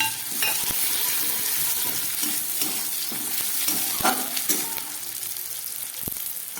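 Chopped tomato sizzles in a pan with fried onion for aloo dum, giving a steady frying hiss broken by occasional clicks of stirring.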